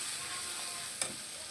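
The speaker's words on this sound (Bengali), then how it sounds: "মশলা দিয়ে 5 মিনিট নাড়াবো" Spices stirred into softened tomatoes frying in a pan give a faint, steady sizzle, with a single sharp scrape of the spoon near the end.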